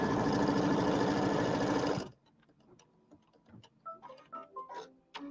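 Domestic sewing machine stitching quilt pieces for a pieced birdhouse block, a loud continuous motor hum for about two seconds before it stops abruptly, followed by quieter clicks and light handling taps.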